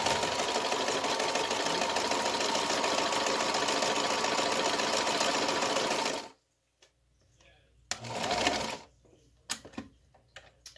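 A freshly serviced domestic sewing machine stitches a quilt in a fast, steady mechanical whir for about six seconds, then stops, followed by a short burst of running and a few clicks and handling noises.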